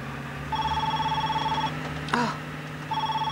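An electronic telephone tone sounds in steady sustained beeps near the listener, pausing briefly before resuming, with a short burst of voice in the middle over a constant background hum.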